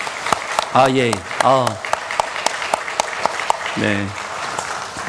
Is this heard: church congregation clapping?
yes